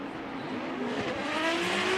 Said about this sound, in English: both vehicles launching out of the start gate